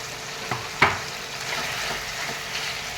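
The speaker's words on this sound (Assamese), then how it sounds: "এইখিনি মিলে অলপ কৰি এফালৰ পৰা লৰাই যাম।" Chicken sizzles in a frying pan with ground turmeric, coriander, cumin and chilli as a spoon stirs it, a steady close hiss with a couple of sharp scraping knocks against the pan.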